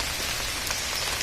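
Steady, dense rain pours onto surfaces during the first heavy downpour of the season in Goa, a continuous loud hiss with no talking.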